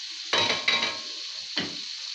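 Meat dropped into hot ghee and oil in a pan, a loud sizzle bursting up with each addition, stirring clatters in between, then a fresh hiss near the end.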